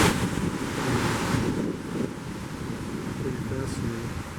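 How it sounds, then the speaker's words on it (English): Ocean waves wash continuously below the balcony of a transatlantic cruise ship on a calm sea, a steady broadband surf hiss mixed with wind buffeting the microphone. "you make a whole video out of just wave action, sound of waves"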